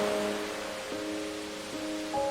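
Rain falls in a steady broadband hiss, close and even, while sustained musical tones shift pitch over it; no speech.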